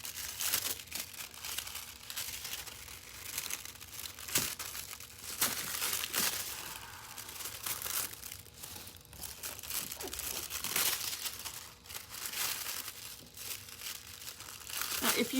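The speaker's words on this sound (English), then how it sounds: "I can get a lot of mileage out of a little tiny piece of foil" A small, thin piece of kitchen foil is crinkled and crumpled by hand in a continuous, close, fairly loud rustling texture, with occasional louder crunches and brief moments of speech mixed in.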